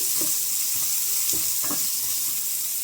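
Onions sizzle steadily in a hot pan, with a few soft scrapes of stirring over the constant hiss.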